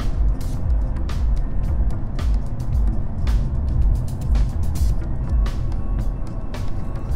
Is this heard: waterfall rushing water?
no